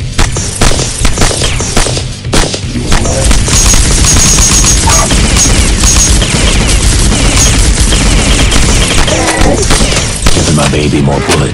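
Heavy video-game gunfire rattles in loud, rapid bursts with booming impacts, nearly continuous across the clip, while a voice talks over the shooting.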